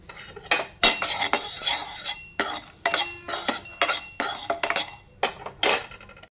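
Peppercorns and coriander seeds tumble into a pan on a low stove, a metal spoon scraping and clinking against the pan in repeated sharp bursts close by, with brief pauses between strokes and no talking.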